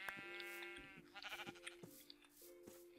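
Sheep in the video game Minecraft bleat softly and repeatedly, with several quavering bleats overlapping faint clicks and background game sounds.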